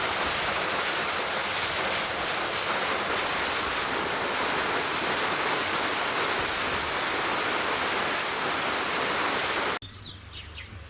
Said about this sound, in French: l'arc-en-ciel sera chassé par une pluie soudaine et abondante